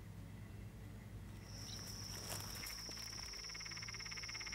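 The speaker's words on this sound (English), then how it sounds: "Notice the laughing tree frog in the background?" A laughing tree frog calls outdoors in South Australia after floods. Its rapid, pulsing chatter swells in midway and keeps going over a dense background of insect buzz and a high steady whine, moderately distant.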